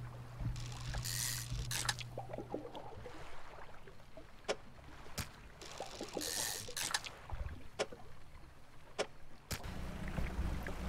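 A small fishing boat's engine in the Dredge video game putters as a low hum, mixed with sloshing water and splashes as the boat moves along.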